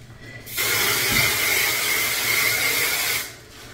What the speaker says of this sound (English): I am gonna add a little bit of hairspray.